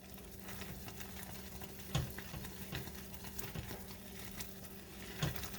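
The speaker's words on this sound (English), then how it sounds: "And I'm going to stir this again" Crackle candy mixture being stirred in a pan at Christmas: faint, soft bubbling underneath, broken by a few sparse spoon scrapes and taps spaced a second or so apart, with no talking.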